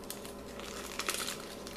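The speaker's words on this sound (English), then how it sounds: "for my piping bags, I'm just going to use little zip top bags." A small plastic zip-top bag used as a piping bag crinkles in the kitchen, a steady close rustle with a few sharper crackles in the middle, no talking.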